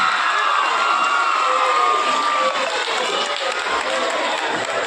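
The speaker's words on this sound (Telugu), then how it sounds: "గట్టిగా చప్పట్లు గట్టిగా చప్పట్లు" Loud crowd cheering and clapping at a school farewell for transferred teachers, with children shouting and whooping in a dense, sustained roar close by.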